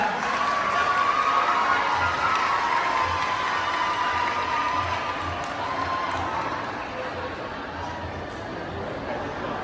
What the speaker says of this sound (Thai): ปรบมือให้เพื่อนหน่อยครับ